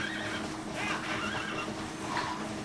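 A horse from a Zelda video game whinnies over a busy layer of game music and ambience, one clear neigh standing out near the middle and a fainter call toward the end.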